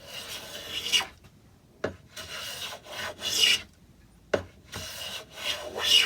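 A chisel blade is rubbed back and forth on a sharpening stone to put on a secondary bevel, giving rhythmic rasping strokes separated by short pauses, close and clear with no voices.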